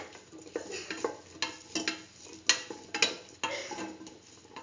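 A spiced mixture of split chickpeas, chayote and rice is stirred in a pan, with rhythmic scraping strokes roughly every half second over a soft sizzle, close and clear, with no voices.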